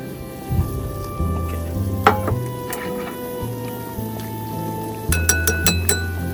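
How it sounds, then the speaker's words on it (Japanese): Hot water poured from a kettle into soup in a metal Sierra cup at a lakeside campsite, with light metallic clinks and a soft, steady pour, close and fairly quiet. "400ml ないぐらいのお湯をこっちのスープに入れると、シェラカップ直入れていきます。"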